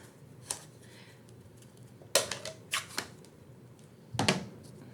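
Three firm rubber stamp impressions of a Starry Sky Bats design pressed onto paper, each a sharp close thump with a brief rustle, spaced about a second or two apart against quiet room noise.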